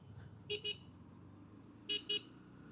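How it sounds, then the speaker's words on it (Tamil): Two quick double beeps of a 2025 Bajaj Pulsar NS160 motorcycle horn, a pair near the start and another pair later, over a low engine hum. "horn is good, typical கீக்கி horn"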